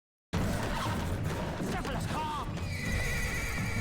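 A horse neighs and whinnies in a Revolutionary War-era TV drama, its cry rising over a dense layer of clattering hooves and commotion that starts abruptly and stays loud throughout.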